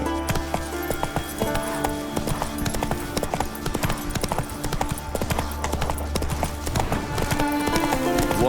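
Horse hooves clip-clop in a steady trotting rhythm in the Witcher 3 video game, continuous and close under a constant low ambient music bed.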